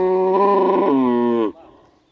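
An Ankole cow gives a single long, loud, close moo lasting about a second and a half, then it breaks off into faint farmyard background.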